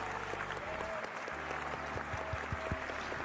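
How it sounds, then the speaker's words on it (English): An applause sound effect played on a synth-and-gear podcast livestream: a steady wash of crowd clapping beneath music with rhythmic bass pulses and tonal lines. "Double applause. Extra long applause."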